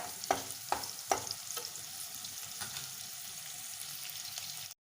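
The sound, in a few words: chopped onions frying in a pan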